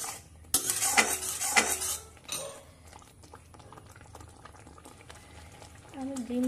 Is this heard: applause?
no